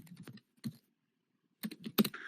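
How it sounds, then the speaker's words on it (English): Typing on a computer keyboard during a podcast recording: a quick burst of clicky keystrokes, a short pause, a single tap, a longer silence, then another rapid flurry of keys, close and fairly quiet. "I typed in the Ring podcast."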